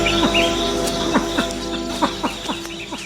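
A silver pheasant in a mountain forest calling with short repeated clucking notes, several sharp calls spaced through the clip, close and loud over a steady forest background.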